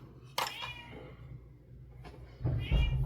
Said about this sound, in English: That was just my cat being angry.